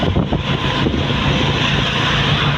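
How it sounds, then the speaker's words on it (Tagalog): Loud, steady roar of strong typhoon wind in Batangas, Philippines, buffeting the microphone, continuous broadband rushing noise with a low rumble throughout, no voices. "Lakas ang hangin."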